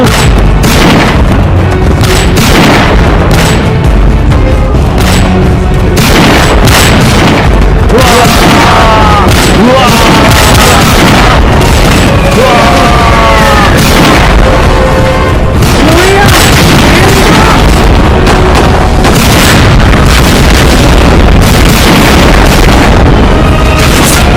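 Gunfire and explosions from an animated battle scene about the Sultan of Mataram rage loudly and continuously, with heavy booms and bursts, shouting voices and a dense, saturated roar throughout.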